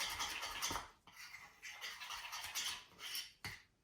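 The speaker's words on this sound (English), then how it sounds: "mix this together really well" A utensil stirs sourdough starter in a container, making close, wet scraping and scratching strokes with brief clinks against the sides in an uneven rhythm.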